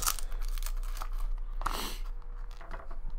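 A piece for a small diorama pop platform build is cut with short tearing, crinkling cuts close by, irregular snips and rips spread over a few seconds with no talking.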